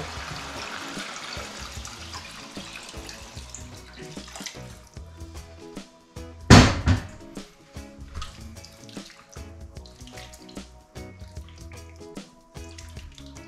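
Water running and splashing into a cooking pot of pork offal for papaitan soup, with a loud gush midway, surrounded by clinks and kitchen clatter.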